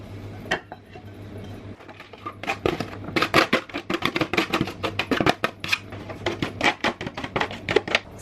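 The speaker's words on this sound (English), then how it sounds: "So I'm just going to mix them a bit better because I can't do it one-handed." Food being mixed in a dish with utensils before plating a gluten-free dinner, giving a run of close, quick clinks and scrapes that grow busier and denser after the first second or so, with no talk.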